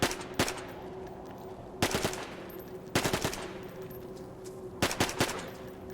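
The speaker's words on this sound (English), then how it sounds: "this gun cannot be chambered because it is an open bolt SMG. It is also only able to fire in full auto" Open-bolt submachine gun firing full-auto bursts in the video game DayZ, four short rapid bursts spaced apart, sharp and fairly close over a steady ambient hum.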